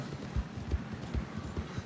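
Hooves of a wild horse in a video game clop in a quick, uneven rhythm, close and moderately loud, with no talk over them.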